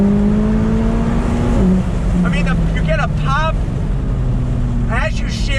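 A McLaren 570S Spider engine rises under acceleration with quick 7-speed DCT gear changes, a loud, close roar with sweeping pitch climbs and sharp shift breaks, heard over steady road and wind noise.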